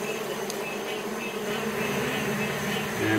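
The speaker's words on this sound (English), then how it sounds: "We're gonna run bees out the soffit" Honey bees being driven out of a house soffit and ceiling make a dense, continuous buzzing that stays close and steady, swelling slightly toward the end.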